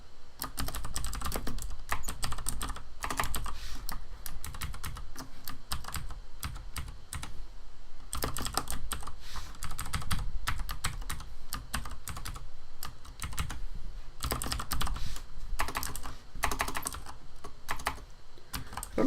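Fast, irregular clatter of typing on a computer keyboard during a stream, close and continuous with brief pauses between bursts, no talking.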